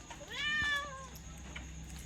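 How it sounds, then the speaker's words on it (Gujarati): A cat gives one clear, rising-falling meow at close range, then it stops. A low, quiet background hum continues underneath, with no talking. "તો ગાઈસ બે બિલાડો આવ્યા"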